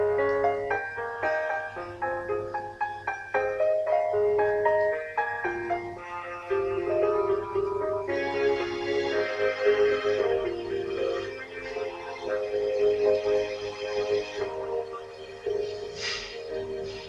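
Backing track of a dance-pop song plays at moderate volume, bright synth melody lines over a steady underlying beat, continuous throughout with no voice heard.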